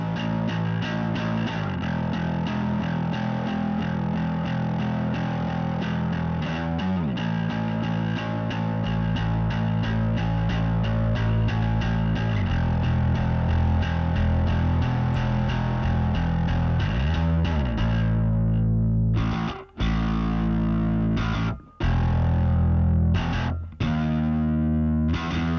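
Bass DI signal run through a TS9 overdrive pedal gives a thick, distorted bass tone that plays loud and continuously for about twenty seconds, then breaks into a few choppy stops near the end.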